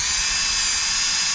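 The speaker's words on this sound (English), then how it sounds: "drill the holes in my new seat for the battery bracket" A power drill whirs continuously at close range as it bores a small hole into a new e-bike seat for a battery bracket, steady and loud with no talking.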